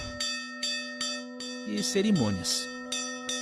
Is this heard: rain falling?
no